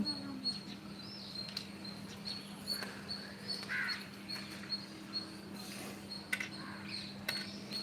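Birds call on a rooftop in the morning, with scattered chirps and short cries, some close and some farther off. A steady low hum runs underneath, and a faint voice comes through now and then.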